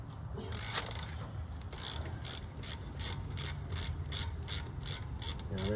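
Ratchet clicking as it turns a bolt on the suspension of a 2004 Dodge Ram, a close run of rhythmic pawl bursts repeating about twice per second.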